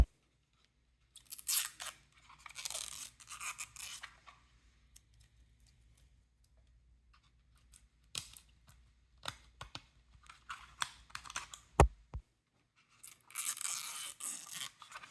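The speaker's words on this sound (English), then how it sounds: "There's some extra wrapping around here. Let's go ahead and take that off." Extra plastic wrapping is peeled off a Logitech MK270 keyboard, heard as close, intermittent bursts of crinkling and rustling between quiet gaps, with one sharp snap near the end.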